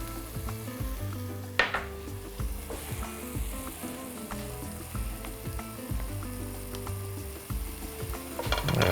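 A tablespoon of melted butter sizzles in a pan, heating to fry onions for a red soup, a steady close crackle broken by clinks and scrapes of a utensil, with sharper clatters near the start and end.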